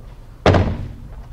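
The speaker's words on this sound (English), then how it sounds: "When we open the door" A door on a 2013 McLaren MP4-12C Spider with a twin-turbo V8, heard as one sharp, close thunk from the latch that fades quickly into quiet.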